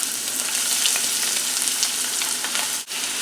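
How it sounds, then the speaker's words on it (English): Onions stirred into hot oil in a skillet over medium-high heat give off a continuous, close sizzle with a brief dip near the end. "stir in your onions"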